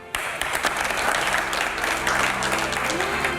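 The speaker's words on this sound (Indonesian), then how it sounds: "Boleh tepuk tangan untuk narasumber kita." Studio audience applause fills the end of an Indonesian political talk show broadcast, a dense, steady burst of clapping that starts abruptly and holds at an even level.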